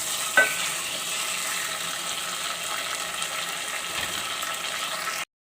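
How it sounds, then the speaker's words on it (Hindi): Diced potatoes fry with spices in a pan with a constant sizzling hiss, and a spoon stirs and scrapes through it now and then. "1 से 2 मिनट मैं इसे अच्छी तरीके से भूनूंगी मसालों के साथ।"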